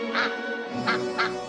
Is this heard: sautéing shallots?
no